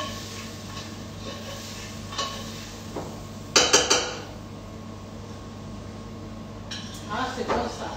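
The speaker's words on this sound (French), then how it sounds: "On mélange bien." Marinade stirred in a pan with scraping, clattering utensil strokes against metal, a loud cluster of clinks in the middle and more toward the end, over steady kitchen background hum.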